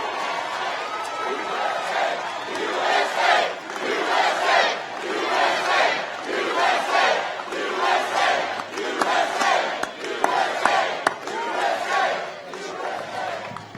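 A large crowd at a political rally with the US president cheers and chants in rhythmic surges, loud and continuous with no pause.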